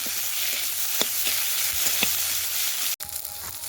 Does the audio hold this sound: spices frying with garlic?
yes